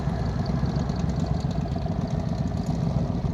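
A motorcycle engine idles along at very low throttle during slow-speed riding practice, a steady, close, low rumble with no other sounds over it.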